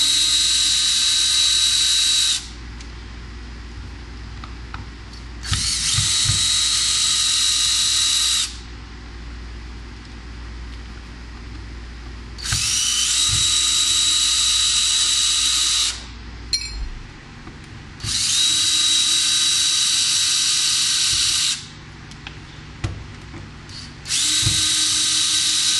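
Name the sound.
screws being removed from an electric guitar body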